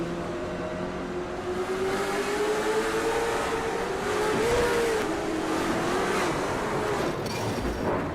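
Onboard engine of the 31 touring race car at New Hampshire, a loud close roar whose pitch climbs and dips with throttle changes, sustained for the whole stretch.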